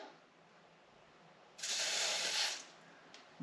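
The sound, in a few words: silicone spray being sprayed on heater hose clamps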